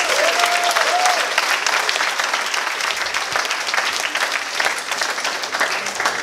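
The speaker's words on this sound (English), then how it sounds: "give them a round of applause" A room full of people at a student club's general meeting breaks into sustained applause, dense and even throughout, with a brief voice audible at the start beneath the clapping.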